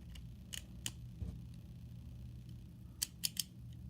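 Part from a Beyblade Burst Cho-Z customize set clicking, a few sparse, sharp ratchet-like clicks followed by a quick cluster of three louder snaps near the end, close and crisp over quiet room tone.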